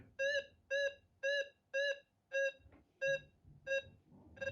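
A Minelab Gold Monster metal detector with its gain turned up gives seven evenly spaced, loud electronic beeping tones, each about a third of a second, with quiet gaps between.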